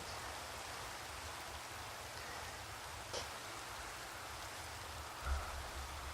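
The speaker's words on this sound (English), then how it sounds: "And now it's raining, so my presentation is ruined." Rain falls in the video game Minecraft as a soft, even hiss that runs steadily throughout, with a couple of faint brief ticks and no talking.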